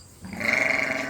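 A single sheep on a farm gives one loud, close bleat that swells quickly and holds steady for about a second.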